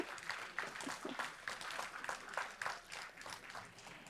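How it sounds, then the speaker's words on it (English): A board meeting audience claps for an honoree, a faint, distant patter of hands in an uneven rhythm that carries on steadily for a few seconds. "Let's give this future officer a big round of applause."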